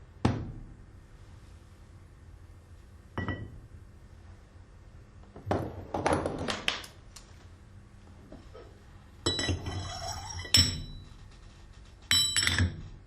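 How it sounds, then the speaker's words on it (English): Metal parts of an Alfa Laval seat-cleaning tool set down one after another, giving sparse clinks and knocks with short gaps of quiet between them, a few ringing brighter than others. "Place the tool parts."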